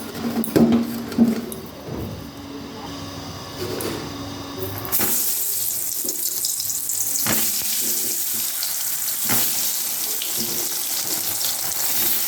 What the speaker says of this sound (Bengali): এরপর আলুটা ভাজার জন্য আমি এখানে কড়াইটা বসিয়ে দিয়েছি, কড়াই তেতে গেছে। আমি তেলটা দিয়ে দিলাম।